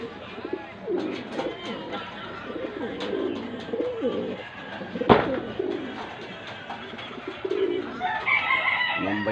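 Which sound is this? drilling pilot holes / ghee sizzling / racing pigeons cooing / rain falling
racing pigeons cooing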